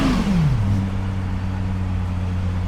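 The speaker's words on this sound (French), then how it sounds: "On sent depuis devant l'aspiration du moteur qui aspire l'air chaque fois qu'il donne un coup de gaz" A Lexus LFA engine coming down sharply from a high rev, the pitch falling quickly before settling into a steady idle hum, with air drawn noisily through the intake; close and fairly loud, no talking.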